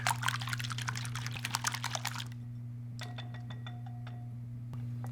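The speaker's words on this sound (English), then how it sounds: "Give it a good whisk." Eggs are whisked briskly in a bowl, giving a fast run of light clicking taps for about two seconds before stopping, leaving a low steady hum with faint clinks.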